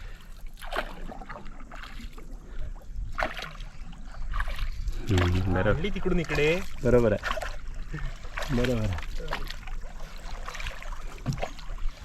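A wooden boat is rowed with an oar and pole through waist-deep water, with soft splashes and dripping under frequent talk between people coaching the rower.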